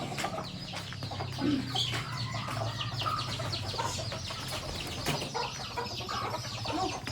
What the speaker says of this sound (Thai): มีไก่เล็กด้วย อันนี้เป็นเล้าไก่แม่หลวงทำเองนะคะ